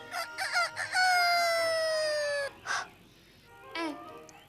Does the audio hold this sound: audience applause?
no